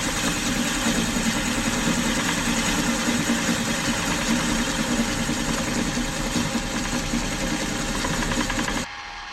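Lathe taking a fine 0.1 mm cut on a part for a Rider-Ericsson hot air engine, a steady mechanical hum and whir running loud and unbroken until it drops away near the end, with no talk.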